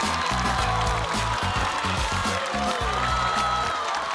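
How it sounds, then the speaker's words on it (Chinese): A studio audience at a televised comedy show applauds as a guest is welcomed onstage, steady clapping mixed under loud, rhythmic band music. "那咱们就掌声有请好久不见的李雪琴。"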